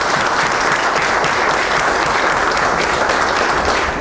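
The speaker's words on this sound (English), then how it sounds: "I think this deserves a good round of applause" Audience round of applause at a workshop address, a loud, dense and unbroken roar of clapping from a large crowd sustained evenly from start to finish.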